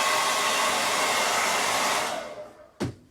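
Hair dryer blowing steadily on wet paint for about two seconds, a loud continuous whoosh that then cuts off and trails away, followed by a brief soft knock near the end.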